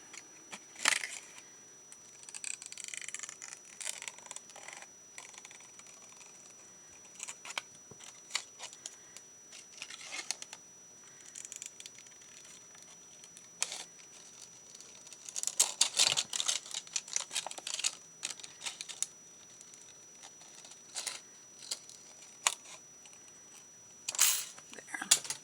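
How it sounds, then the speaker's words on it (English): Scissors cut through two acetate sheets at once while a card is being crafted, giving close, quiet snips and crisp crinkling clicks in irregular bursts with pauses between. "That doesn't cut my acetate very well, so I'm going to use my scissors, and I'm just going to cut two at the same time"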